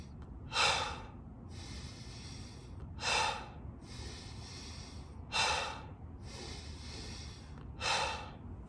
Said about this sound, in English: it's in through the nose, kind of a quick out